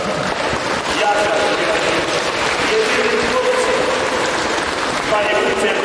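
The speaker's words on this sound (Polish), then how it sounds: "Szczególne brawa proszę dla" Applause from an audience at a Polish school year-end ceremony as pupils and their parents are called up, a steady dense clatter of many hands filling the room alongside murmuring voices.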